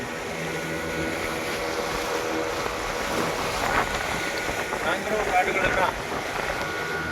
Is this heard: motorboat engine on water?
yes